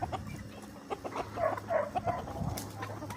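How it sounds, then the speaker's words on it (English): Chickens cluck and murmur close by on a farm, with scattered soft calls and a few higher chirps that may come from a quail among the flock, over a low rustling background. "I think I got a quail."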